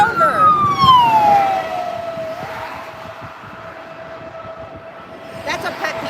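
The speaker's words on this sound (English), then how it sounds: "Look how everybody's pulling over to let the ambulance." An ambulance siren wails and sweeps past in street traffic, loud at first and then fading to a steady distant tone, with road noise underneath and faint voices nearby.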